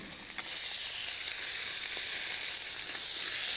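Shrimp sear in a hot pan with a loud, steady bright sizzle and crackle throughout, close up and without any talking.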